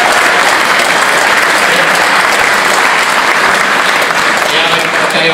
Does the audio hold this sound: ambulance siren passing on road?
no